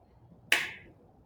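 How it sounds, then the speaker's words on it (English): A single small, crisp hand clap during a beginner poi spinning warm-up, heard once, close and fairly quiet against a soft room background. "Maybe clap as your arms pass each other."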